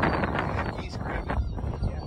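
Gusty wind buffets the microphone at an open rocket-launch field, rumbling in uneven bursts with muffled voices underneath.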